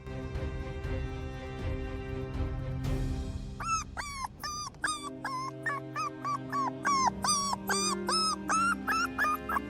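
An abandoned dog at the edge of a field whimpers and yips in a long run of high, rising cries that repeat steadily and sound close, with a held tonal background underneath.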